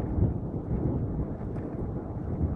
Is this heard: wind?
yes